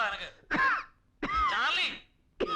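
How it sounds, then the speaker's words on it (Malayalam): A man coughs several times in short harsh bursts, close and fairly loud, alone and without other talk. "എന്നാ കൊടുക്കുന്ന ചുമയാടാ?"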